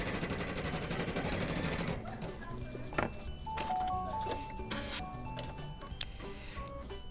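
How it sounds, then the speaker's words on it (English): Embroidery machine stitching a placement tack-down for an organza applique, a fast, steady mechanical whirring of stitches at first, then lighter ticking and beeps, close and moderately quiet. "we're going to hit our light, and we're going to start stitching. This is doing its placement tack down."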